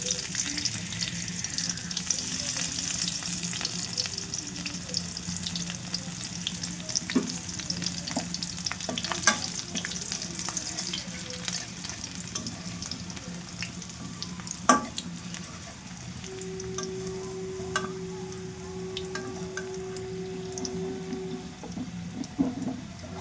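Dry red chillies, Kashmiri chilli, bay leaf and crushed garlic fry in oil in a pan, giving a soft, continuous sizzle broken by occasional scraping stirs, with no talk.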